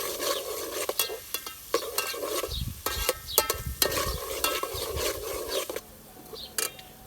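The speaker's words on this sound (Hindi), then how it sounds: "तो अभी हमने इसमें शामिल कर दिया अदरक और लहसुन का पेस्ट। तो अभी इसको थोड़ा सा भून लेंगे।" Ginger and garlic paste frying in a pan in a village kitchen while a spoon scrapes and stirs it, giving a soft steady sizzle broken by sharp clinks and scrapes of utensil on metal.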